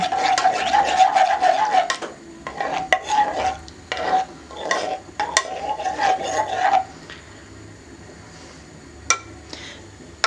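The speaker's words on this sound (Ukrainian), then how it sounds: "відразу ввожу набухший желатин та гарно-гарно його перемішую" Soaked gelatin stirred into a freshly boiled hot mixture in a blender bowl gives rapid scraping and clinking strokes of a utensil against the bowl in bursts, then slower, fainter taps.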